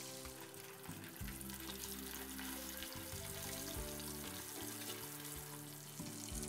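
Whole tilapia, cleaned and scored, deep-frying in hot oil for a crispy golden finish, giving a steady dense sizzle and bubbling that runs unbroken with low clattering underneath.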